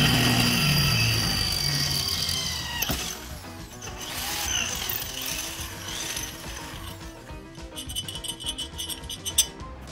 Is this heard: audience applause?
no